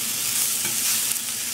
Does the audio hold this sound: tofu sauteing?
yes